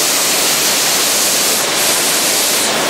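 Lan Sang waterfall roars as a steady, loud broadband rush heard from below, with no voices over it.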